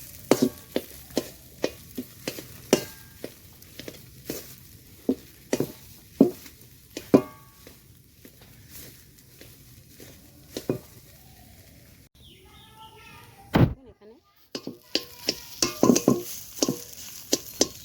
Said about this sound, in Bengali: আলুটাকে ভালো করে ঘেটে দিতে পারেন